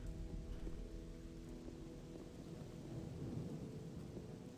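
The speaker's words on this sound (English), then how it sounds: "We're gonna have to rest this storm out, because the lightning is insane." Thunderstorm in the video game Gothic II, a low continuous rumble of thunder with a faint rain-like hiss, steady and moderately quiet throughout with no voices.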